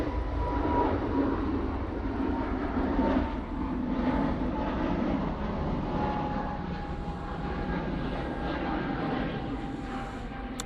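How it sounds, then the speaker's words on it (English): A KLM Airbus A321neo takes off for Amsterdam Schiphol after a night stop, its jet engines giving a loud, steady broadband roar with a faint whine that holds throughout. "KLM A321 Neo now blasting back off to Amsterdam Schiphol."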